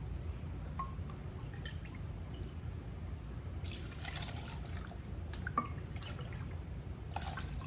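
Orange juice, one and a half cups, is poured into a blender in a home kitchen, giving a soft steady trickle and splashing liquid with a few small clinks, fairly quiet and without speech.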